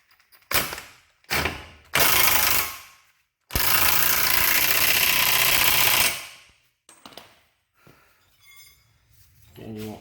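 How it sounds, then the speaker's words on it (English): Ratcheting on a Honda Civic front axle nut during a front suspension rebuild: several short bursts of clicking, then a long sustained ratchet run of about three seconds, followed by quieter clanks and handling sounds, all close up. "The only thing we got left to do up here is torque down our axle nut."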